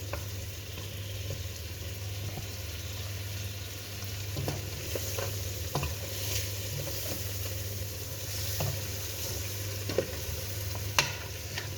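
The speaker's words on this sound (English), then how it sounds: "So we want the meat to brown a bit. But we also don't want the spices to burn." Lamb meat and spices frying in a pan, a steady close sizzle with faint scraping and stirring clicks scattered throughout, no talking.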